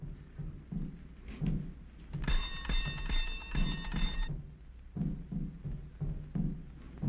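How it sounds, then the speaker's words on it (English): An electric doorbell rings in one continuous buzzing peal of about two seconds, flanked by low rumbling room noise and faint muffled movement. "You ring the bell."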